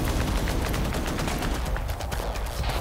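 Rapid gunfire from an HK417 rifle in the video game Arma 3, a dense, continuous stream of loud shots with overlapping reports and heavy low-end rumble, steady throughout.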